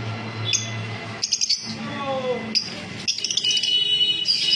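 Lutino Fischer's lovebirds chirping at close range, with short bursts of high, bright tweets and chatter set against steady low background noise.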